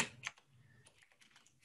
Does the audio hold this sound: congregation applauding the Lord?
no